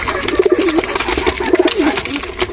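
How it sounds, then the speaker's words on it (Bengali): Close pigeon coos rise in short, repeated throaty phrases as the birds come down to feed, set over a busy, rustling background. "সব কবুতর চলে আসতে ধীরে ধীরে।"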